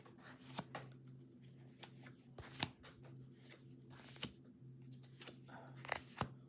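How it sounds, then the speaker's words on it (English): Large tarot and oracle cards are shuffled by hand, with soft riffling, papery slaps and scattered sharper clicks at an uneven rhythm, close and fairly quiet, with no talk. "Shuffle this the best I can. Some of these big ones are hard to shuffle."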